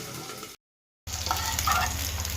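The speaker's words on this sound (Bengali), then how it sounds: "কপি আলু একসঙ্গে ভাজা হচ্ছে" Cauliflower and potatoes frying together in a pan give a steady, close sizzle and crackle, broken by a short silent gap, with no voices.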